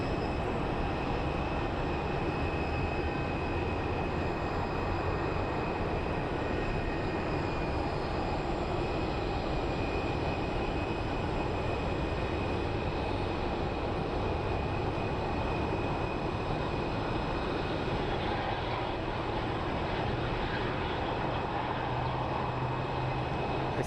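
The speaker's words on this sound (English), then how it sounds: "our next arrival is going to be Southwest Airlines, Boeing 737 MAX" A brand-new Southwest Airlines Boeing 737 MAX arriving at Phoenix Sky Harbor International Airport, its engines a steady, distant jet roar with a faint tonal whine held at an even level throughout, no voices.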